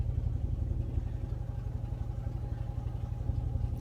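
A 1951 Rolls-Royce Wraith engine idles steadily up close, a low throbbing rumble with a rapid, even pulse and light mechanical clatter.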